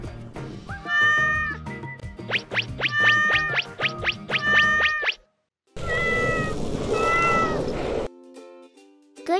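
A cat meows repeatedly, loud and close, in a string of rising and falling calls, then more meows over a hissing, noisy background before a brief tonal sound at the end.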